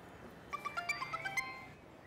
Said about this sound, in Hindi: फोन को तो उठाओ, बजे जा रहा है।